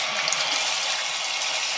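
A kitchen tap runs steadily for hand washing, making a constant hissing stream of water close by, with no talking.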